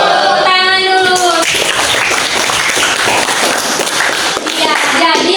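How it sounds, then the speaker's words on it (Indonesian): Hands clap together in a classroom lesson, a dense burst of applause from a group of pupils, with children's voices talking over the clapping at the start and end. "Tepuk tangan dulu"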